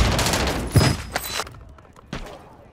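A ray gun firing in the video game Warzone 3: a quick burst of sharp blasts with zapping high tones, then a single later shot, with a voice speaking over the gunfire.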